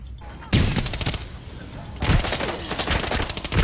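A PK machine gun fires in Arena Breakout in two loud, rapid bursts of close, rattling automatic fire, separated by a short pause.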